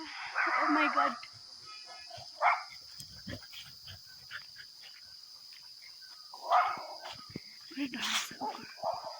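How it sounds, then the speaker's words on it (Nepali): A dog barks nearby in a few loud bursts spread through the stretch, with someone talking quietly in between. "त्यहाँ फेरि कुकुर भुक्दैछ"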